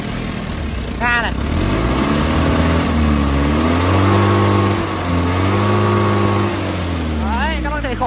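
A Komatsu FD25-7 forklift engine is throttled up from idle, its mid-pitched drone rising and falling through a long rev close by, with brief squeaks at the edges.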